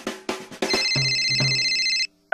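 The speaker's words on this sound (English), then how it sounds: "please take a moment to turn off all cell phones so they don't ring during the show and" A cartoon cell phone rings loudly in a cinema, a bright electronic tone sounding steadily for about two seconds after a few sharp knocks, then a brief second ring.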